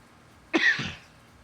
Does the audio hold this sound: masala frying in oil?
no